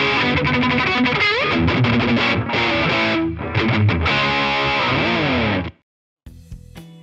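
Electric guitar played through a BOSS JB-2 Angry Driver distortion pedal, a loud, thick, saturated classic distorted tone with chords and riffs, cutting off abruptly near the end before a faint amp hiss and noise follow.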